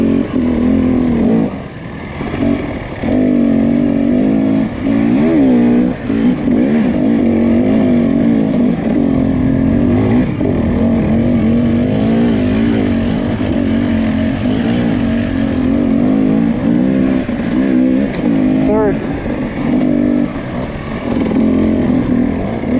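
A motocross dirt bike engine at a cold race meeting, running a little rough and foggy, revving loudly and continuously close by with wavering pitch as the throttle rises and falls throughout.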